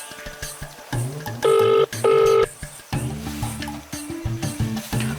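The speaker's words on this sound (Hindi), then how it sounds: "एक काम करी, पिचाली के फोन करी" A telephone dials out a call, with two loud, steady dial tones back to back standing out among shorter electronic beeps and tones. The room is otherwise quiet.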